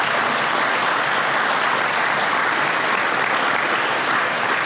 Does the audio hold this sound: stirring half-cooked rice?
no